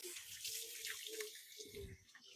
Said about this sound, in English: I'm going to give my hands a quick rinse.